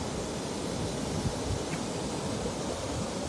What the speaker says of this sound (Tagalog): ang lakas ng hangin, Dol.